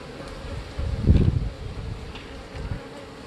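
Honeybees buzzing steadily from an open hive that holds an old queen, a low drone swelling louder near the one-second mark and then settling back to a softer hum.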